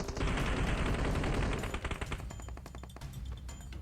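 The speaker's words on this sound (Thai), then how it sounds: "ได้ยินเสียงปืนข้างหน้านะทุกคน" Gunfire in PUBG Mobile: a dense, loud burst of rapid automatic shots, then a string of sharper separate cracks that taper off, with no talking.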